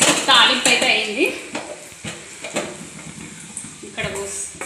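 Tempering spices in hot oil with a pinch of turmeric crackle and sizzle in a pan, with sharp clinks and scrapes of stirring against the metal and someone talking now and then.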